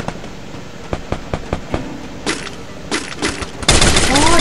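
Gunfire in the mobile battle-royale game Garena Free Fire, with a series of sharp, separate pistol shots at an irregular pace, then a dense, louder burst near the end.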